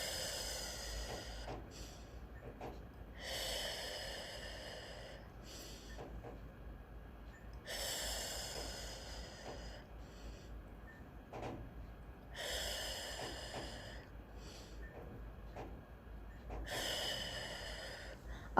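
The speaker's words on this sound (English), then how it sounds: "we are going to first take 5 small breaths and hold each one in for 2 to 3 seconds" Five short inhaled breaths in a breathing exercise, each a soft airy intake held for two to three seconds, spaced into a slow regular rhythm of hissing bursts over quiet background.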